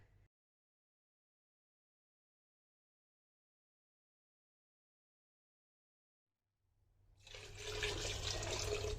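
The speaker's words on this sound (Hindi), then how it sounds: "तकरीबन मैंने इसमें 6 कप पानी डाल दिए" Water pours into a pressure cooker holding mutton pieces for biryani, a steady splashing gush that begins after a long silence and continues loud and close to the end.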